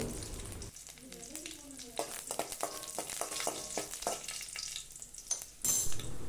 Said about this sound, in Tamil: பூண்டு கலர் சேஞ்ச் ஆனதுக்கப்புறமா கறிவேப்பிலையும் போட்டுடலாம்.